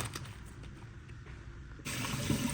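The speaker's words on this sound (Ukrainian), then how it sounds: "І промиваємо гарненько потічною водою нашу споржу, щоб вона була чистенька." Running tap water pours over fresh green asparagus as it is rinsed, a steady close hiss of water that grows suddenly louder and fuller near the end, with no voices.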